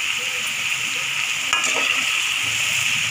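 Curry leaves fry with onions and green chillies in a pan for Telugu drumstick curry, making a continuous bright hiss with a brief stirring scrape near the middle.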